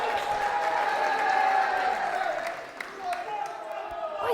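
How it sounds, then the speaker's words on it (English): A darts finals-night crowd applauds and cheers in a dense, steady wash of clapping and voices, with a louder swell before fading slightly toward the end. "I think those guys are just cheering anyone and everything anyway."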